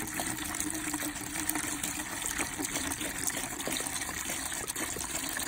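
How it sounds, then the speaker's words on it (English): A gallon of milky liquid solution pours into a new two-gallon plastic bucket. The continuous trickling and splashing stays steady and fairly faint throughout, with no speech. "A 2-gallon bucket, and I got a gallon of solution here. And put it in"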